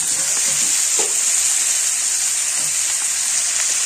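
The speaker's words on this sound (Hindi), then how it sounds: "इधर मसाला हमारा भून लेंगे अच्छी तरह से।" Masala spices for chole sizzle and fry steadily in a pan, a continuous close hiss with faint stirring scrapes and no voices.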